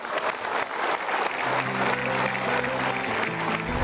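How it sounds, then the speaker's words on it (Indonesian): An audience at a motivational talk applauds in a continuous wash of clapping, with sustained musical tones rising underneath partway through. "So, kita berikan tepuk tangan tuh."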